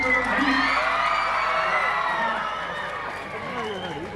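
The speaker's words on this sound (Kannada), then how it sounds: "ಸಂಜೆ ಆದಂಗೂ ಈ ಚಪ್ಪಾಳೆ, ಈ ಸಿಳ್ಳೆ, ಈ ಒಂದು ಕೂಗು ಬೇಕೇ ಬೇಕು" An audience at a closing ceremony cheers, whistles and shouts as one dense, sustained roar that slowly fades. A voice carries over the crowd.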